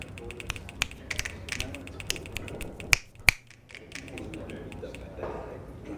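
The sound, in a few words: finger snapping in Grim Fandango Remastered video game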